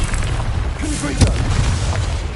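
A Confringo blasting spell in Hogwarts Legacy goes off as a booming magical explosion, a dense low rumble with a sharper burst near the middle, heard up close over a steady din of game sound.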